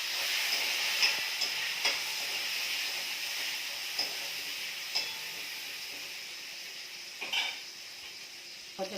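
Mustard seeds frying in hot oil in a kadai, a steady close sizzle and hiss with a few sharp pops and clinks scattered throughout.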